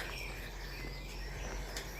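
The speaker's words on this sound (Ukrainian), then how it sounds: "Пташки співають красиво. Трішки вам послухати спів пташок." Birds sing on a farm in Ireland, a few faint chirps and tweets over a steady background hiss with insect-like buzzing, no talk.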